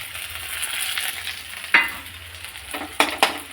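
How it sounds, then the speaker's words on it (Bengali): Ginger garlic paste goes into onions already frying in a pan, giving a continuous close sizzle with three sharp clacks of a spoon or spatula against the pan near the end. "পেঁয়াজটা লাল হয়ে গেছে, এবার আদা রসুনের পেস্ট দেবো"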